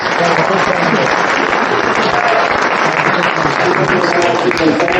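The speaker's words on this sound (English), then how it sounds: "Round of applause." A Brooklyn audience gives a round of applause at a Jewish public speaking event. The clapping is loud, close and continuous, with voices faintly blended into the steady wash of hands.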